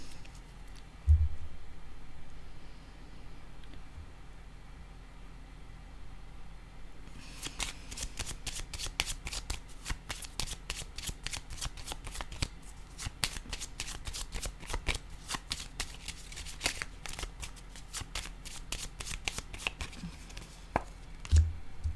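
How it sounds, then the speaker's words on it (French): Tarot cards being shuffled, handled and laid down on a surface during a reading, with soft rapid riffling and flicking that begins after a quiet stretch and continues steadily, close and gentle, without talk. "Je vais déposer une carte sur celle-ci."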